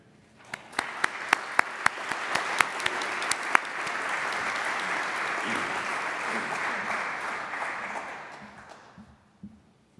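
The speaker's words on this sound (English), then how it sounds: "That applause that I heard earlier is well deserved." Sustained audience applause at an evening architecture lecture, welcoming the president of the American Academy of Neuroscience for Architecture; a dense, steady wash of clapping swells quickly, holds for several seconds, then fades out near the end.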